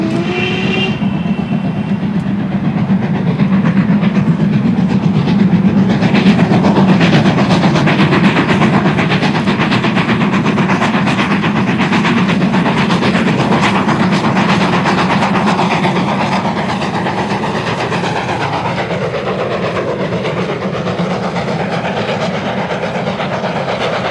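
A steam-hauled Santa special on the Weardale Railway, a preserved line, in a winter cold snap: a loud, near train rumbling past with rhythmic clickety-clack and hissing steam, sustained and fading slightly toward the end, no talk.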